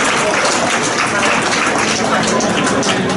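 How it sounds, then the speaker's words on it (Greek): Dense, steady audience applause fills the room at a Greek association's New Year pie-cutting gathering, a continuous close patter of many hands with no pauses. "Ένα χειροκρότημα θα ήθελα από εσάς."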